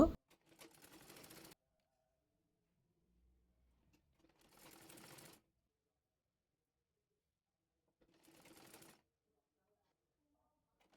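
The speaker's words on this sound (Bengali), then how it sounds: "পকেটে লেস দিয়ে সেলাই করে নেব।" A sewing machine stitching lace onto the pocket of a baby frock runs in three short bursts of rapid stitching, separated by quiet pauses.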